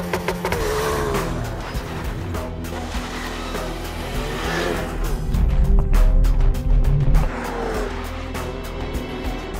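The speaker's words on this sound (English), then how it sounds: "start the engine, select launch control from the menu system, foot on the clutch, and then foot wide open on the accelerator pedal" A Ford Focus RS makes a launch-control start: the engine holds a steady high rev, then surges and climbs through the gears with rising, then dropping pitch, loud and close with some tire noise.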